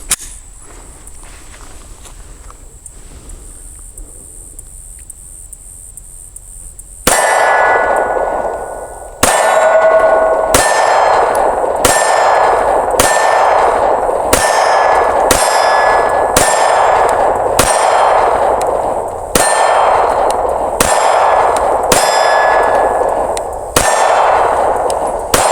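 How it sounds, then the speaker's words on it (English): Close, sharp 9mm shots from a Smith & Wesson M&P 2.0 Compact pistol at an outdoor range, fired at about seven yards with Winchester white box and PMC ammunition, a dozen loud reports spaced steadily about a second or two apart. "actually shooting a mix of 9mm today, mostly Winchester white box, some PMC thrown in there"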